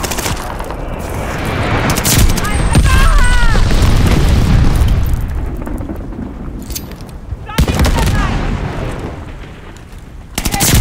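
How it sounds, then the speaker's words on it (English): Glide bomb explosions in Call of Duty Vanguard on the Dome map, with deep booms and gunfire rolling through a continuous loud battle din, a sharp blast near the middle and more detonations toward the end. "Friendly sending a glide bomb."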